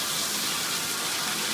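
Water gushing steadily out of a hot water tank being drained to flush sediment from the bottom; a continuous loud, close rushing hiss with no break and no voices.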